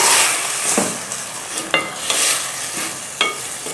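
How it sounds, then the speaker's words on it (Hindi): Tender meat pieces for a quick pulao fry loudly with tomatoes and green chillies, a dense, close sizzle broken by a few spoon scrapes and stirs, with no talking. "गोश्त को डालकर भून लें।"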